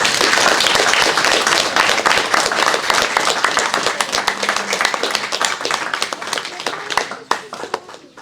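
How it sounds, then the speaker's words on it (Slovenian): An indoor audience at a children's art exhibition in a library applauds the children, dense close hand clapping that thins out and tapers into scattered claps. "Pa en velik aplavz za vse."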